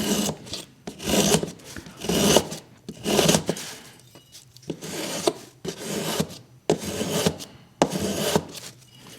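A tool shaves down the wooden fan braces on a guitar top in long, rhythmic rasping strokes, about ten close scrapes separated by short gaps, with no voices.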